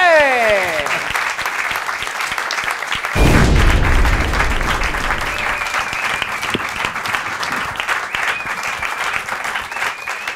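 A studio audience at a French televised talent contest bursts into loud, sustained applause, a dense steady wash of clapping that swells sharply after a brief opening tone and carries on strongly to the end.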